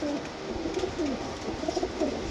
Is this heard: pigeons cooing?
yes